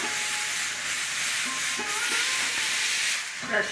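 A pressure cooker cooking dal hisses steadily as steam escapes, a sustained breathy rush with a faint tonal whistle inside, fairly close and continuous, tapering near the end.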